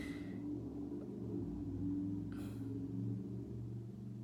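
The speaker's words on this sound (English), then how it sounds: "I don't know if you heard that sound of a big boosted up truck going through" A big boosted-up truck passes on a nearby street, a steady low engine rumble that swells through the middle and fades slightly toward the end, with no talk over it.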